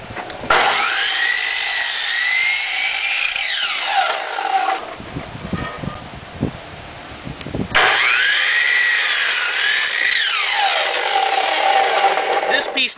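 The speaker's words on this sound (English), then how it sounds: "This piece needs to be cut with the grain." A piece of wood is cut with the grain for a Chinese flying top toy, two long loud bursts of power sawing separated by a quieter stretch of handling and knocking.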